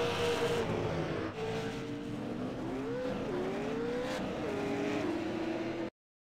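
Race cars circle a track at an Ice Bowl race, engines droning loudly and continuously with pitch rising and falling as they accelerate and pass, before cutting off abruptly.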